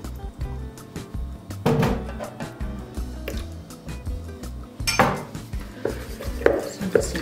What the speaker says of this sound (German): Ich verrühre erstmal die Milch zusammen mit dem Ei.